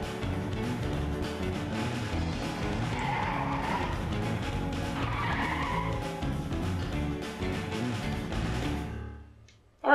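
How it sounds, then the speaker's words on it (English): In the Chibi-Robo! video game, a car brakes hard and skids: a loud, continuous tire screech runs almost the whole time over a layered engine drone, then cuts off abruptly near the end. "Press B to slam on the brakes."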